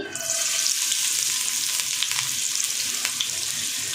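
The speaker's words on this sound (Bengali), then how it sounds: "পেঁয়াজটাকে আমি একটু হালকা গোল্ডেন কালার করে ভেজে নিচ্ছি" Chopped onion sizzling steadily in a hot pan of oil while being fried to light golden for kacchi biryani, a continuous close, even hiss with faint stirring scrapes.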